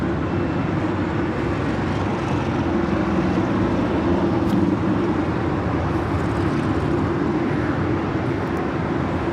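A United Airlines Boeing 737-900ER departing LAX for Austin, heard as a steady, loud broadband jet roar that holds constant throughout, with no voices.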